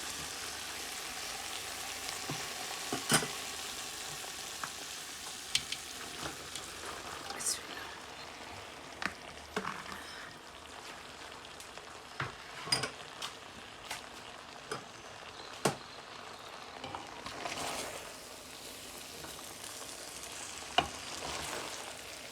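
Chicken noodles sizzling steadily in a pan while being stirred and tossed, with frequent scraping and knocking hits of the utensil against the pan over a continuous frying hiss, close and moderately loud.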